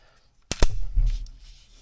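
Two sharp, loud gunshots in quick succession from a SIG P365 XMACRO pistol fitted with a threaded barrel and a Herrington Arms compensator, followed by a rumbling echo that fades out.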